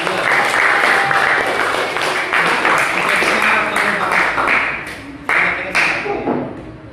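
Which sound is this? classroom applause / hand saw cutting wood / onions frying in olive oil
classroom applause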